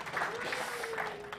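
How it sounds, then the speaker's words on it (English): Conference audience at WordCamp Asia 2023 applauds a speaker taking the stage, a brief wash of clapping under a voice speaking over it. "Give her a big applause, right?"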